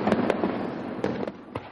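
Fireworks burst at night in a dense, crackling barrage, with several sharp loud bangs punching through a continuous rumbling fizz.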